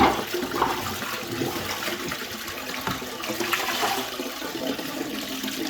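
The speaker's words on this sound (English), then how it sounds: "And that's the toilet flushed." A toilet flushes in a home, the rushing water roaring steadily and close for several seconds with a broad wash and no voices.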